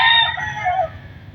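Chickens and a rooster on a backyard feeding spot give a loud close crow that trails into clucking, heard alone without talk.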